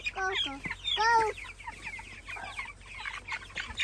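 Chickens cluck and squawk up close as they are loaded into a rebuilt chicken tractor, with a burst of sharp, rising calls early on and then a busier flurry of softer clucks.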